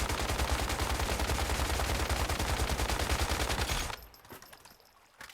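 A gun in the video game Once Human empties full magazines in one long, loud, unbroken stream of rapid shots, then stops abruptly, leaving faint clatter.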